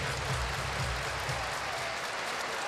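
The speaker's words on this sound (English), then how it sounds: "The crowd was asked to clap their hands. They complied" Hockey arena crowd at a preseason NHL game clapping their hands in unison on request, a dense, steady roar of applause filling the whole stretch.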